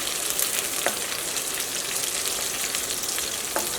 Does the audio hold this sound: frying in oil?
yes